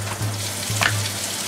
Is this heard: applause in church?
no